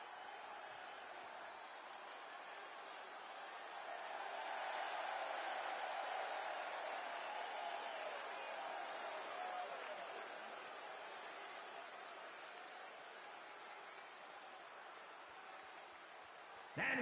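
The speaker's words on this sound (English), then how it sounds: "It's great to hear the crowd give this superstar the reception he deserves" In a boxing video game, an arena crowd cheers and applauds a superstar fighter's entrance, a steady distant roar that swells midway and stays continuous under the ring announcer's voice.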